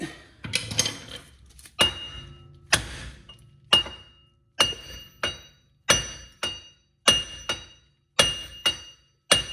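A hammer strikes repeatedly on a 2010 Town and Country front hub bearing, sharp metallic clanks landing in a steady rhythm about once a second, close and loud, with a quick flurry of taps at the start.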